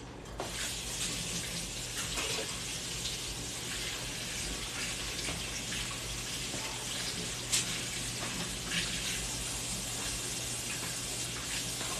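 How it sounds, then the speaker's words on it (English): A faucet pours in a continuous, steady stream as limes are rinsed before juicing, with the flow holding level throughout and nothing else standing out. "So I like to rinse off my limes before I start to squeeze them."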